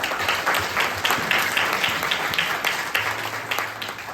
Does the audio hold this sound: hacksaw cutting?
no